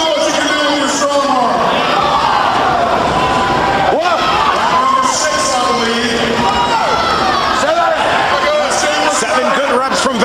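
A crowd cheers and shouts continuously at a strongman competition, with loud whoops and waves of voices rising and falling throughout, and a commentator talking over the noise.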